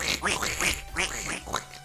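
Ducks in the Minecraft video game quack in a quick run of about six rasping calls, loud and close, with no talk over them.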